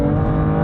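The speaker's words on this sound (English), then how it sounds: "the S55 engine in this, it just purrs, doesn't it?" A BMW M2 Competition (F87) with its S55 engine purrs, a loud, smooth and steady engine drone heard briefly from close by.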